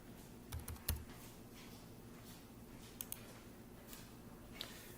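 Faint, sparse key presses on a computer keyboard as a verification code is typed, a few quiet clicks clustered early and then scattered over a low steady background hum.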